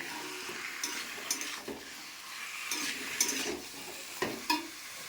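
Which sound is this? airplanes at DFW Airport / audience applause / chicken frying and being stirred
chicken frying and being stirred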